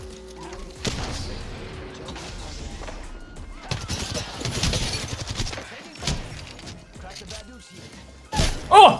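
Gunfire in the video game Apex Legends, with short bursts of shots and impacts scattered across the clip and a loud burst near the end, mixed with game effects.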